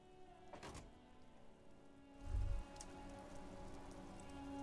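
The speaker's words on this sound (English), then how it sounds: "droplets of rain fall on the white on blue police livery of the motor carriage" Steady rain patters on a white-and-blue police motor carriage in the Disco Elysium video game, a soft continuous hiss of droplets with a brief low thunk partway through.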